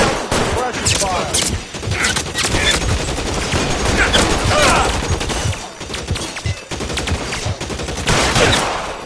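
Gunfire from a shootout in the video game L.A. Noire rattles in dense, continuous bursts of rapid shots and impacts, loud and close, with voices mixed in.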